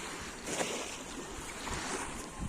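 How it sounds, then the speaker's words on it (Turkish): Sea waves wash against the shore at Geyikli pier, a steady broad surf hiss with gentle swells and some wind buffeting on the microphone, heard alone. "Dalgalara ayağımıza çarptırıyoruz"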